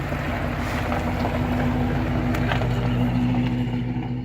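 A car engine hums steadily at close range as it drives out of a driveway, a low continuous drone with a constant tone and no voices.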